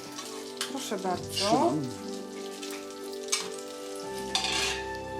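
Silesian krupnioki sausages sizzle in a frying pan with a steady crackle and occasional stirring scrapes, while voices talk over the cooking.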